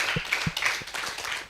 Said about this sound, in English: A round of applause to all the closing remarks speakers.